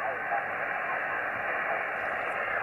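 Steady band-limited hiss from a Yaesu FT-817ND receiver with its RX sensitivity raised, a constant, even static filling the whole stretch with no variation.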